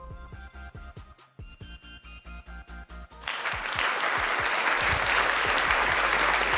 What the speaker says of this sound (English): Thank you for that wild round of applause from the fake in-studio audience.